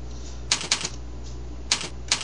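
Sharp keyboard clicks come in small quick clusters, about five keystrokes spread over two seconds, close and clear against a low steady hum, with no talking.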